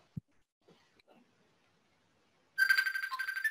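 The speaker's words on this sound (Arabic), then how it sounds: "الموبايل بتاعي بيرن" A mobile phone starts ringing partway through, a bright, steady electronic ringtone pattern that follows a few faint clicks and a quiet stretch, loud and close.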